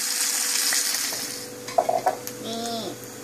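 Food fries in hot oil in a home kitchen, giving a steady hissing sizzle with a few utensil clinks and stirring sounds, while a voice speaks briefly near the end.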